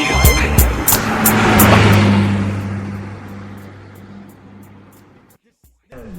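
A car roars past fast and close, its engine noise swelling and then fading away over several seconds before a brief silence, with a second vehicle starting to approach at the end.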